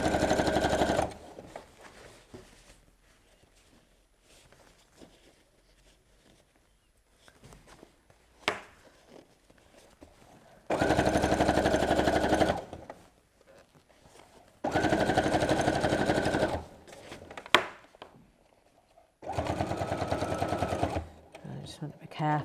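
Sewing machine stitching up apron armholes runs in several loud, steady whirring bursts of a few seconds each, separated by quieter stretches with a person talking and handling fabric.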